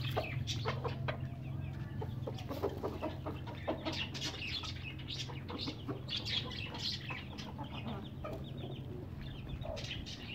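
Pakistani laying hens cluck steadily and busily while being fed grain, with many overlapping clucks and squawks close by over a low, constant background hum.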